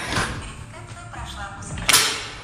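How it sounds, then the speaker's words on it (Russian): A door fitted with a Kaadas K9-5W Wi-Fi smart lock with a fingerprint scanner closes with a short sliding rub and then a firm click and thump near the end, under a man's speech. "Дверь у нас закрылась."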